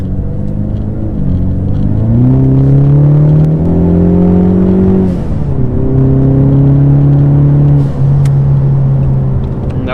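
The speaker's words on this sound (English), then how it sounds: "that's how you can hear the exhaust" A Ford Mustang EcoBoost exhaust revs at partial throttle, loud and close, its deep droning tone climbing and falling in several steady sweeps with brief dips between pulls.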